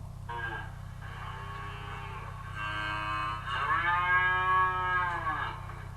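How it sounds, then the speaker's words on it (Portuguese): A cow moos in two long, drawn-out calls, the second louder and rising, over a constant low electrical hum. "Este som é o mugido da vaca."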